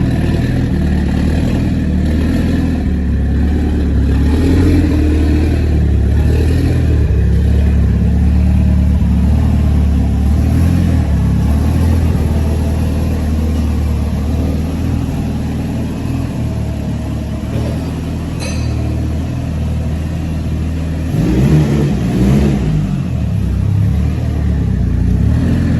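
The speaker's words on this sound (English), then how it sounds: "just going to move the car and get on the ramp for a four-wheel alignment" Car engine idling and revving as the car is driven onto an alignment ramp in a tuning workshop after new parts are fitted, a loud steady close drone with a couple of throttle swells and no talk.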